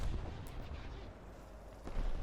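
An artillery strike explodes in War Thunder around a tank: a dense, rumbling series of heavy booms and blasts, loud and close, with sharper impacts near the start and end and no talk.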